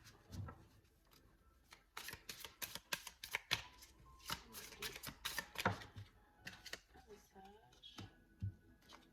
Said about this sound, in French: Alors, je vais en tirer 3. C'est l'oracle Aura.